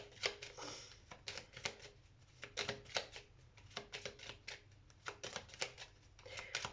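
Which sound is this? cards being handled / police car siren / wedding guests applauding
cards being handled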